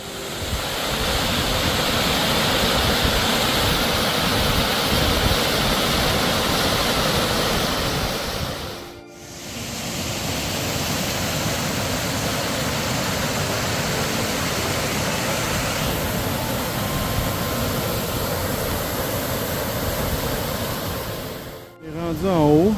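Chute du Calcaire waterfall at Mastigouche roars as a steady, loud broadband rush of falling water, continuous apart from two brief dropouts.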